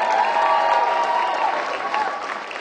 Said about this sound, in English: Give me a big round of applause for all the children.